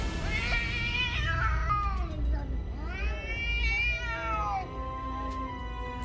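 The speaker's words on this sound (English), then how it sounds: "your house cat decides to pick a fight with a cougar and even scares it away." A house cat yowls and caterwauls in long, rising and falling wails while facing off against a cougar outdoors, loud and close over a steady low background rumble.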